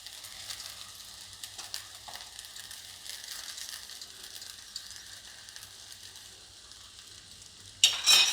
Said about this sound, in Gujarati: હવે આપણે આને ગેસ બંધ કરી દઉં અને આમાં પૌવા નાખી દઉં આપણે.